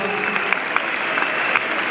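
A church audience at a gospel concert celebrating Easter, honoring Ben and Chance, claps steadily and densely, a sustained wash of many hands close by with no break.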